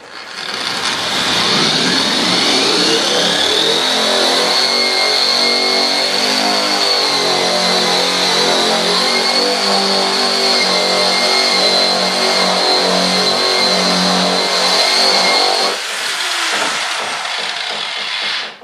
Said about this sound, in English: we got the old Harbor Freight conditioning wheel, and we're going to get at it.